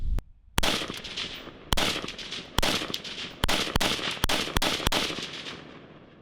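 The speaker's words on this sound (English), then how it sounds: "Let's go ahead and send 8 rounds down range and see how we can do." Eight sharp rifle shots ring out one by one at an outdoor range toward a target 150 yards away, with irregular gaps between them and each loud crack trailing off into a short echo. No one speaks.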